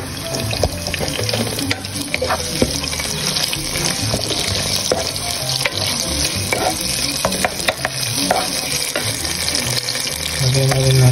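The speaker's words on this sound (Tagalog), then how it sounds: "So, lagyan na po natin ang luya at kamatis." Ginger and tomatoes sautéing in a pan with browned garlic while preparing a lawot-lawot dish, giving a steady close sizzle with continuous stirring and scraping throughout, loud and unbroken, with no voices.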